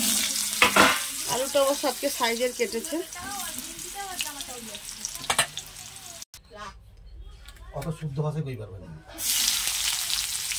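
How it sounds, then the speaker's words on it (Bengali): Potato pieces cook in oil left from frying tengra fish, a constant sizzle beneath someone talking for most of the stretch, then the hiss flares louder and alone near the end. "এবার সেই তেলটাতেই আমি আলুটা ছেড়ে দেবো।"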